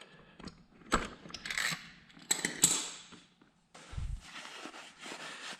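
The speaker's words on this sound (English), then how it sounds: "Still gonna use my wrench and just give it a little bit, like a quarter of a turn." A wrench gives a fitting on a bicycle a final quarter turn, making quiet close-up metallic clicks and ratcheting scrapes in short bursts, followed by soft handling noises.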